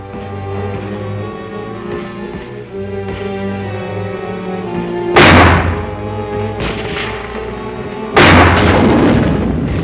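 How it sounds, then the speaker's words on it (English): Mortar fire supports an infantry advance in combat: two loud, close booms break over a steady mechanical rumble and droning background. "With mortars to help cover their advance"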